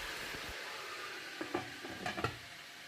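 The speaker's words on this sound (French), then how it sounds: "Quand vous faites cuire la viande, quand vous le faites revenir dans l'huile" Meat browning in hot oil with bay leaves and basil, a soft continuous sizzle broken by a few sharp stirring scrapes and clatters of the utensil in the pot, close and fairly quiet.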